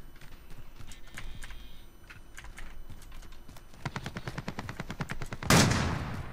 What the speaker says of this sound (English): Oh, it's a shotgun.